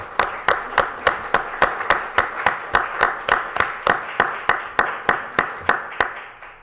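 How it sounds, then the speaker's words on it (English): Audience members at a city council meeting clap in a steady, evenly spaced rhythm, about twenty sharp claps at a regular pace, fairly close and without talk. "I'd just like to give him a round of applause if we could"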